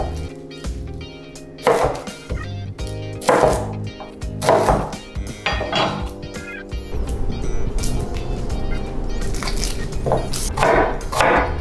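A knife thinly slicing peeled shallots on a cutting board, several sharp chopping strokes up close, uneven in spacing, over background music.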